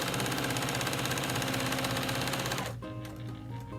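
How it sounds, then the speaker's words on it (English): A sewing machine stitches paired quilt pieces, running fast and steady, a rapid mechanical rattle that slows and changes pitch near the end. "So now we're going to send them through our sewing machine in pairs."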